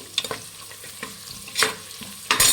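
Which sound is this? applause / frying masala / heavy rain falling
frying masala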